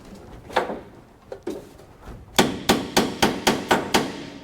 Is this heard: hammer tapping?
yes